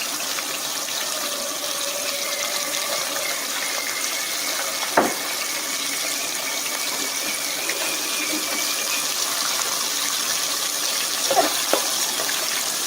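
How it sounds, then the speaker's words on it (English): Steady, dense sizzling hiss of lobster deep frying in hot oil in a Cantonese restaurant kitchen, constant and close, with a couple of brief clanks. "Deep fry it in 3 runs"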